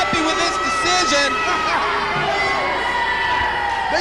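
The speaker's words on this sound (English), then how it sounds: "The crowd not very happy with this decision." Arena crowd at a 1995 pro wrestling event reacting with a loud, sustained mass of shouts, jeers and chatter, with whistles and yells rising over the dense roar throughout.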